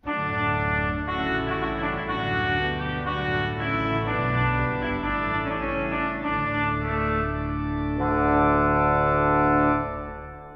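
Full, bright Rieger pipe organ pleno chords of 8-foot, 4-foot and 2-foot stops with a shimmering high mixture sound continuously, loud and sustained, swelling brighter toward the end before releasing.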